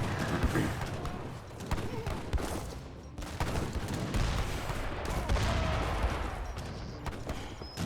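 Dense musket volleys and culverin cannon fire crackle and thump almost without pause in an Age of Empires 3 battle between Hussars and Routiers, a busy layered fusillade with faint talk underneath.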